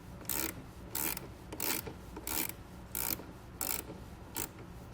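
A ratchet wrench loosens the 10mm nut on a battery terminal cover of a 2017 GMC Canyon, making steady rasping clicks in about seven even bursts, close and fairly quiet.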